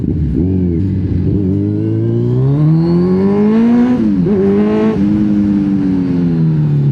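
Kawasaki Z1000 inline-four 1000cc motorcycle with a newly fitted exhaust, revved up in one loud, smooth, close climb of rising engine pitch, briefly dipping and rising again before settling into a steady high drone.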